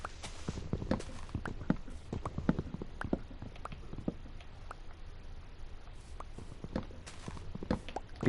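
Minecraft horse hooves clip-clopping at a walk in the PS4 survival game, a steady run of light, close taps over a faint background, with no talking.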